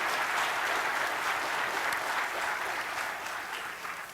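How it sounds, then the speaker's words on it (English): Sustained audience applause at a senator's town hall, dense and steady throughout, fading slightly toward the end, with no voices over it. "give a round of applause, please"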